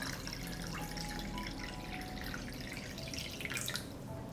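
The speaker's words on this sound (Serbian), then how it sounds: "U šerpu sipam vodu." Water is poured into a deep pot holding a jar set on a cloth, a soft continuous trickle and splash at close range with no talking.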